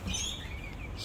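Backyard chickens squawk and chirp in brief high bursts while pecking at gourmet treats, set against a low rustling background.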